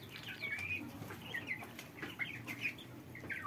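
A flock of domestic ducks makes soft, scattered quacking and clucking calls nearby, quiet and irregular over a low background hum.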